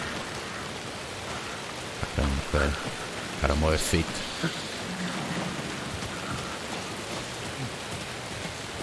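Rain falls steadily in the video game Alan Wake 2, a continuous soft hiss with a few louder thumps and thunder-like rumbles midway, while someone talks over it.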